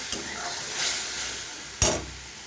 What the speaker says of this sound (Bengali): দেখো বন্ধুরা কাজু আর পেঁয়াজের পেস্টটা বেশ ভালোভাবে কষানো হয়ে গেছে